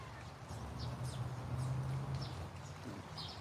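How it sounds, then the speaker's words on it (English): Small birds chirp faintly in short, high bursts at Hilo Bay, scattered every half second or so over a low, steady outdoor rumble of wind or rain. "Sitting here with the birds"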